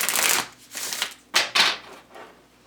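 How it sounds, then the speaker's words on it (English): Tarot cards are shuffled in several quick, crisp riffling bursts, close by and fairly quiet. "One more shuffle and we'll get some wisdom cards for you"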